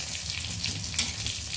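Cumin and a dry red chili sizzle in hot oil left from frying fish, a soft, steady crackle with faint spitting pops, close and unaccompanied by talk.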